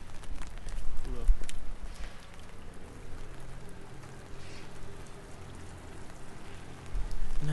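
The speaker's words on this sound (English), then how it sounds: "But it's raining." Rain patters steadily onto a canal-side street in Amsterdam, a soft wash of drops with occasional footsteps and brief bumps nearby.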